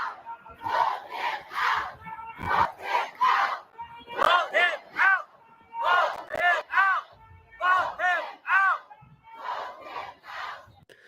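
A large crowd gathered outside the NRA convention shouts and cheers in repeated rhythmic bursts, loud chanted cries rising and falling across the whole stretch.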